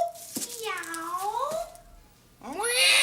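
A voice imitating a cat gives drawn-out, rising and falling meows, two in close succession and a third beginning after a short pause, close and clear with faint background sound.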